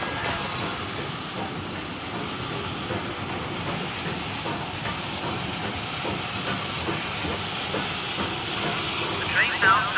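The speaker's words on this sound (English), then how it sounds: "There's a train due very shortly" A steam train pulls into a station platform with a steady hiss of steam and faint rail clatter, close and continuous while voices speak over it.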